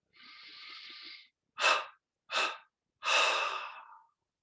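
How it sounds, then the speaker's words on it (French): Slow, deep breathing during guided meditation: one long steady inhale through the nostrils, then three separate audible exhales, each a soft breathy rush with silence between them. "Puis on prend une inspiration profonde par les narines, 3 expires"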